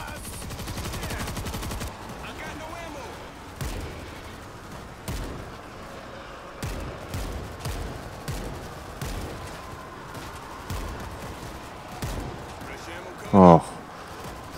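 Zombie-shooter gunfire in World War Z, set in New York, cracks in scattered shots and short bursts under frequent talking, moderately loud throughout.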